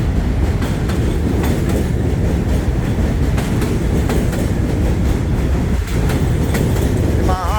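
A New York City subway shuttle train rumbles steadily along the tracks at West 8 St, with a constant roar and faint rhythmic clatter, loud and close throughout.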